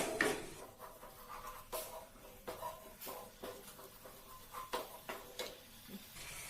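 Steady sizzling and crackling in a hot pan, with occasional scraping and stirring sounds over a continuous frying hiss.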